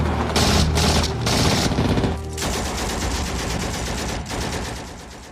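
Dense gunfire rattles through a battle against NVA troops among building ruins in Full Metal Jacket, with loud rapid machine-gun bursts and overlapping shots that barely let up.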